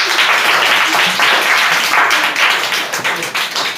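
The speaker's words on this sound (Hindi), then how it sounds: "तालियां एकदम" Classroom applause for a pupil who answered correctly in a Hindi-medium English grammar lesson: dense, steady clapping from many children that fills the whole stretch at close range, with no talk over it.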